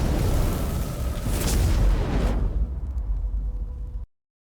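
Fireball spells in a Clash of Clans superwitch attack erupt as a loud, continuous roar of booming explosions that fills several seconds and then cuts off abruptly.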